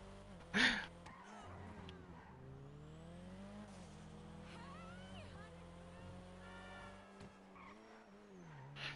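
A video game race car engine revs and whines through rising and falling gear shifts, with tire squeals and a sharp burst near the start.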